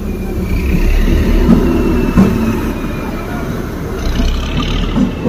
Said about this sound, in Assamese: এইফালে ট্ৰেইন এখন আহিবলৈ ধৰিছে বাটটো মানে বন্ধ হৈ গ'ল এই ট্ৰেইনে আহিছে